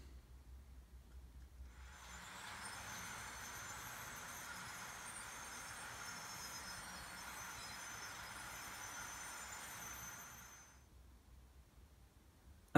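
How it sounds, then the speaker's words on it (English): A model railway train runs along an incline on a layout, a soft steady rolling rumble with faint wheel hiss that swells in, holds for several seconds and fades away, with no voices. "more trains being tested up and down the incline"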